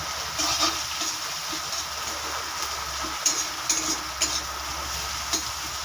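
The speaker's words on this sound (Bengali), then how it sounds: "এরকম করে ভেজে নিতে হবে" Leftover rotis and egg sizzle steadily in a hot pan, with occasional stirring scrapes and clinks; no one speaks.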